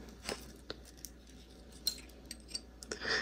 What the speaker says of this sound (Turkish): Bir zincir çekerek ipimi kesiyorum.